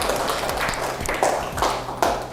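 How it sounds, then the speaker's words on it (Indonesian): A classroom claps for group 1, a brief burst of scattered applause and taps, fairly close, for a couple of seconds with no talk. "beri tepuk tangan untuk kelompok 1"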